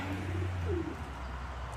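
A pigeon coos softly in a loft of breeding pigeons, a couple of low rolling calls near the start over a steady hum of background noise, with faint chirps and no voices.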